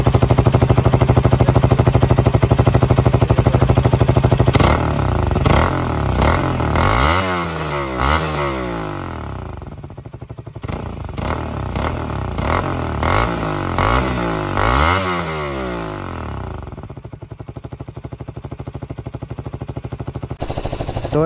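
A KTM Duke 200 BS6 motorcycle with holes drilled in its exhaust is revved up repeatedly, the loud engine note climbing and dropping in several close rises, with crackling and clatter between revs and a steady idle at the start.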